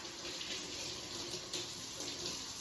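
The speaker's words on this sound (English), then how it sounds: "I'm going to go ahead and give these 6 pieces a rinse." Tap water runs steadily over six raw chicken pieces in a kitchen sink, a close, even hissing splash with slight shifts in flow as the pieces are rinsed, no talking.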